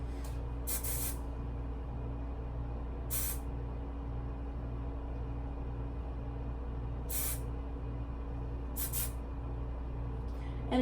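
Several short bursts of hairspray hiss, spaced irregularly, as a curly updo is sprayed and pushed up, over a steady low background hum.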